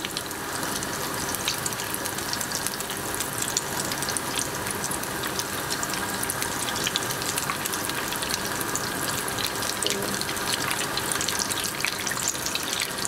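Potato cheese balls fry in hot oil with a dense, steady sizzle and crackle that stays loud and close for the whole stretch, with no voice over it.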